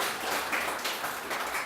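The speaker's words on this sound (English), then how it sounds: "Clap for the Kenya National Chamber of Commerce and" Audience applause at a Kenya National Chamber of Commerce and Industry exhibition in Vihiga County, steady broadband clapping from a crowd with no pauses.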